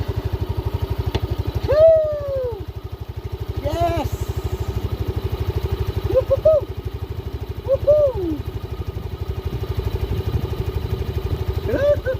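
A Yamaha Mio i125 scooter, stored for five years, idles steadily after starting following a throttle body cleaning, a low, even engine putter running throughout while a voice talks briefly over it.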